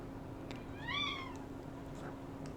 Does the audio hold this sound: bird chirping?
no